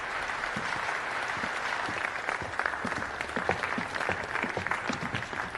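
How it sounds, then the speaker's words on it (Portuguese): Steady audience applause, sharp overlapping claps from a crowd that carry on evenly for several seconds, heard from some distance at a modest level with no speech over them. "Vamos aplaudir o Sheldon."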